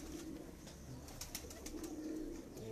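Pigeons cooing steadily at a bird loft, with low throaty coos and some fainter chirps in the background.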